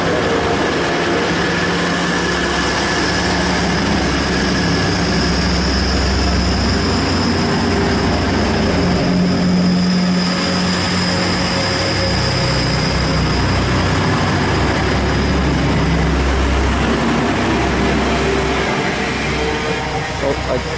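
A DB Cargo Class 60 locomotive passes Beeston station on the Midland Main Line, a heavy, steady rumble and engine drone that stays close and loud for the whole stretch, with no talking.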